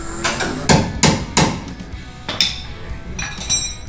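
Hammer blows on the metal body panel of a 1955 Chevy gasser, sharp ringing clangs in an uneven series of about eight strikes, close and loud, with brief pauses between groups.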